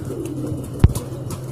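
Pigeons gathered at a club loft, on the ground and inside the coop, give soft low coos with one sharp close thump, set over a murmuring background.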